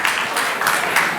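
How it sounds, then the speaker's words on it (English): Audience applause after a presentation at a product marketing summit in New York, a steady dense wash of clapping filling the short stretch at even loudness, fairly close. "Round of applause for Jessica, and then we'll take some questions"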